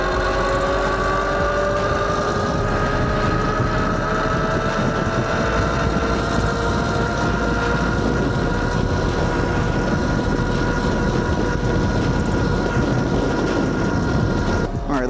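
Tuttio Soleil electric scooter with stock motor, controller and battery running at top speed: a loud, continuous roar of wind and road noise under a steadily rising motor whine, with no talking.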